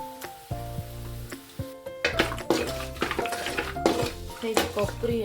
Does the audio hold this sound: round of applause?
no